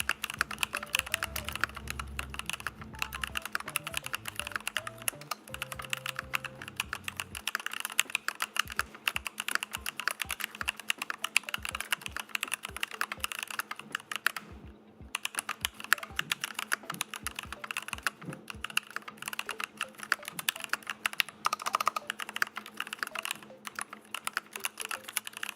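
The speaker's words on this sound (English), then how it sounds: "Can you hear the keyboard?" A computer keyboard is typed on steadily for about half a minute, a dense stream of quick clicks and key presses, close and clear, with background music running underneath and a brief pause midway.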